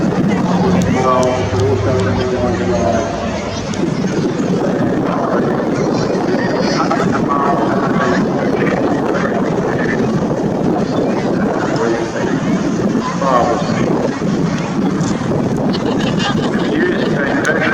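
Vintage World War II aircraft flying over the Swansea air show, a broad continuous roar with wind buffeting and a distant crowd, steady and loud throughout.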